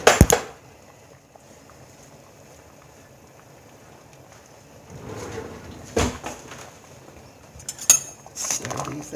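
A utensil clinks against a pot as cooked spaghetti noodles are stirred, a few sharp metallic knocks separated by long stretches of quiet with soft background murmur.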